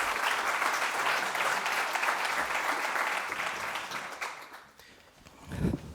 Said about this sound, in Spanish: Un aplauso siempre viene muy bien